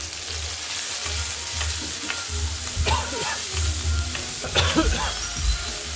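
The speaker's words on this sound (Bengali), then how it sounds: "আদা বাটা দিয়ে দেবো, দিয়ে ভালো করে কষিয়ে নেব।" Onion and ginger paste fry in oil for a katla fish curry with potato and cauliflower, a steady close sizzle with occasional scraping stirs and louder bursts of spatter.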